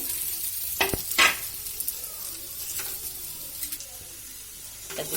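Paneer pieces frying in oil in a kadai, with a continuous close sizzle and a few sharp scrapes and clinks from stirring.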